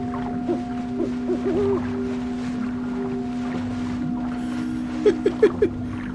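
Owl hooting in the game Never Alone: a quick run of four short, fairly close hoots near the end over a steady hum of wind and water, with softer calls earlier.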